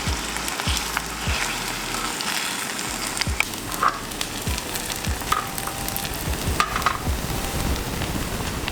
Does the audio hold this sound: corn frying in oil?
yes